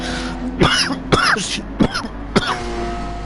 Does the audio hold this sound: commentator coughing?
yes